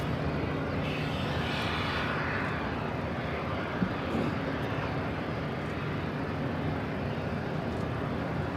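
A JetBlue Airbus A220-300 arriving at LAX from Buffalo, a steady broadband jet roar holding evenly throughout, moderately loud and somewhat distant, with no voices.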